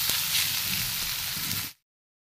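Onions, ginger, garlic and green chillies fry in a pan, giving a steady, close hiss with faint crackles that runs unbroken for under two seconds and then cuts off abruptly into silence.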